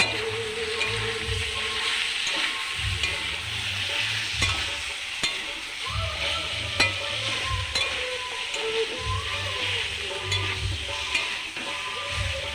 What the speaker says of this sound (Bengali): আমি ওর মধ্যে রসুন বাটাটা দিয়ে দেবো।